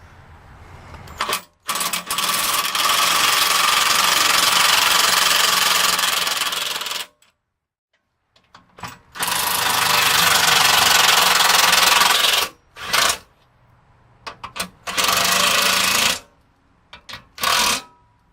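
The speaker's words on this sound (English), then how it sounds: "Hammer drill." A hammer drill boring into a 1973 Volkswagen for a trailer hitch install: loud, harsh grinding bursts of several seconds each, broken by short pauses and a few quick stop-start pulses at the end, with no talking.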